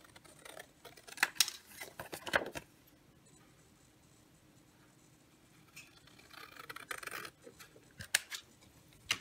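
Scissors snip through scrapbook paper from a paper pad in short bursts of crisp cutting, with a quiet pause in between before more snips and rustling near the end.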